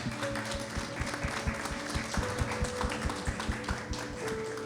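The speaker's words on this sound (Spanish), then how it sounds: "Vamos a darles un aplauso a los papás." A church congregation claps in a steady stream of overlapping applause for the fathers, with a sustained tone held underneath.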